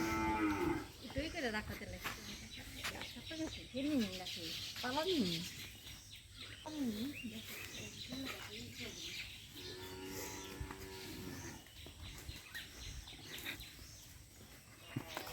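Cattle at a rural sale of a heifer moo repeatedly in long, rising calls, fairly close, with people talking between and over the lowing and faint birds chirping in the background.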